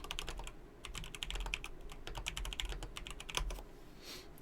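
Quick, irregular keystrokes on a computer keyboard, close and fairly soft, clattering steadily for several seconds with brief pauses and no voices.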